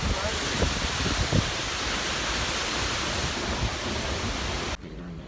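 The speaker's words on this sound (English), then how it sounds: "This is one you can walk behind." Seljalandsfoss waterfall in Iceland, the kind you can walk behind, roars as a dense, steady wash of falling water close by, with faint voices under it before the sound cuts off near the end.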